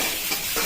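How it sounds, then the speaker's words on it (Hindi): Onions hit a hot pan for a vegetable Maggi noodle dish, a short burst of loud, close hissing sizzle with no talk. "तापरे कटा एथरे पियाज पके देबा"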